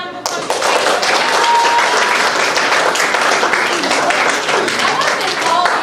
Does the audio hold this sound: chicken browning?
no